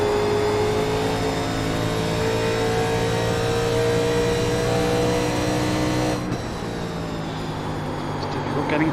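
1987 NASCAR Legends race cars at Darlington in the iRacing game, a steady loud engine drone with sustained harmonic whine from the pack, the pitch shifting as the cars pass lapped traffic near the end.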